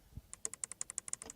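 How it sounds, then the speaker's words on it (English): Climate control toggle switches clicking in an Audi A3 or Mercedes-Benz A-Class cabin, a quick even series of about a dozen crisp close clicks with soft thumps at either end. "I can change the temperature with these nice clicking toggle switches."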